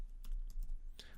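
Typing on a computer keyboard during Java coding, a short burst of a few crisp key clicks close by, with no talking.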